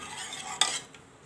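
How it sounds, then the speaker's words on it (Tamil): Cooked toor dal for sambar being stirred and mashed in a pot: a soft, steady scraping with one sharper clink midway, quiet and close, with no voices. "பருப்பு நல்லா வெந்தாச்சு. அப்படியே ஒரு கரைச்சி விட்டுடலாம்."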